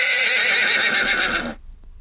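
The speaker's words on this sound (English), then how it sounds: "It's a horse." A horse neighs loudly in a long, shaky whinny that holds for about a second and a half, then cuts off abruptly into near silence, with no talk over it.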